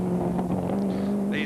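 A classic Ford GT40 race car at the Montlhéry historic racing meeting, heard as a steady, droning engine hum with some wind noise over the microphone.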